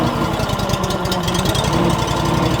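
A Honda GX630 engine on a Wolfe Ridge 35 SHO log splitter runs close by with a rapid, slightly uneven, chugging pulse, heard alone at moderate loudness.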